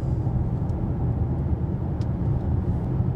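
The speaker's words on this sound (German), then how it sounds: "jetzt mal wieder ein bisschen rein elektrisch unterwegs" Mercedes E 300 de E-Class estate plug-in hybrid rolling downhill in electric mode with the diesel off, a steady road and tyre hum heard from inside the car, no speech.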